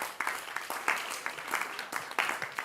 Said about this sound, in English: we give them a better round of applause?